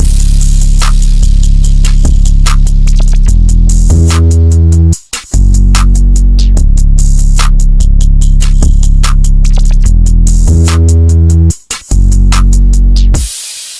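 A loud trap drum pattern plays with heavy booming bass, crisp rapid hi-hats and snappy hits, briefly cutting out twice before resuming.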